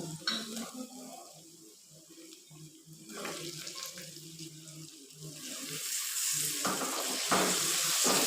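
Chicken sizzles and crackles in a hot pan for chicken karahi, growing louder as pieces are stirred and scraped, with a low voice at times.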